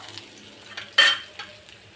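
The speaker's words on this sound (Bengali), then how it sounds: "তেল গরম হয়ে গেছে, দিয়ে দিলাম রসুন কুচি আর একটা কাঁচামরিচ দিয়ে দিব, পেঁয়াজ কুচি" Chopped garlic, a green chilli and chopped onion hit hot oil for tempering dal, giving a sudden loud sizzle burst that settles into a softer, steady frying crackle with faint utensil sounds.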